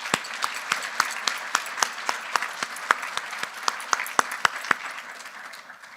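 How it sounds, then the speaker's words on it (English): An audience at a gala event for South Asian jewelry applauds its sponsors, producing steady, dense clapping with a few sharper individual claps that sound fairly close. The applause stays even for most of the stretch, then thins slightly toward the end. "Give them all a round of applause,"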